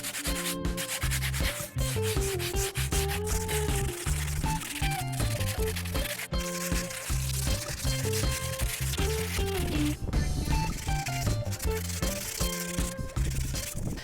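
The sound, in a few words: hand sanding a floor with sandpaper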